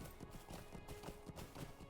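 An Archer's Steed horse gallops in a video game, its hooves drumming in a quick, steady rhythm that stays faint and low in the mix.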